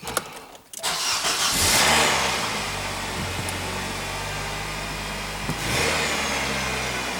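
A Nissan NV200 van engine cranks and catches after a CVT transmission replacement, then settles into a steady, rumbling idle with a slight rev toward the end, close by.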